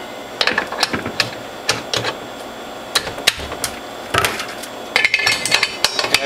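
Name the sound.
installing the cutter on a Whole Health Foundation juicer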